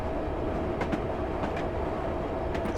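A London Underground D78 stock train runs along the District line, a steady close rumble of wheels on track with faint intermittent clicks from the rails.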